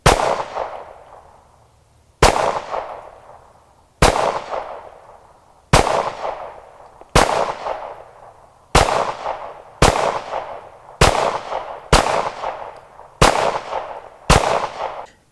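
Ten sharp pistol shots from a Smith & Wesson M&P Pro Series, fired one at a time at a slow, fairly even pace, each loud crack trailing off into a ringing outdoor echo, with no talking.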